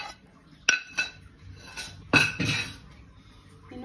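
Cumin seeds pounded fine in a small mortar: a few sharp clinking strikes, spaced irregularly, close and fairly loud against a quiet background with no talk.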